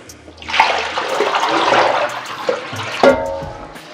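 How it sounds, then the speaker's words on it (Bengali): Water used for washing greens is poured away in one continuous splashing gush that swells and then tapers, with a few louder splashes near the end. "আবার এই জলটা ফেলে দেবো।"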